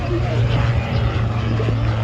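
Gyroplane flying at the Duxford air show, a steady droning rotor and propeller engine hum holding at constant loudness, fairly near, with an announcer's voice over the public address running underneath.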